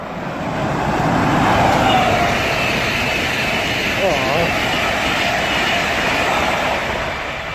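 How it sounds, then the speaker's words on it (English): A train rushes through Hadley Wood station with a steady, loud, broadband roar that holds for several seconds, while faint voices can be made out under the noise. "the next train to come by is going to be a class 91"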